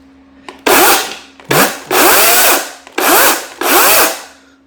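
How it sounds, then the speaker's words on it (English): A DeWalt FlexVolt battery chainsaw starting indoors: several loud, close bursts of high motor whine that rise and fall in pitch, separated by brief pauses. "So I got to pull this back, then start the chainsaw."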